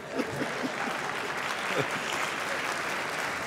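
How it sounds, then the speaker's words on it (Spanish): Applause fills the UN General Assembly hall in a steady, dense wash of clapping from a large audience, heard at a distance with a few voices underneath. "Ese aplauso es para Gaddafi y su discurso."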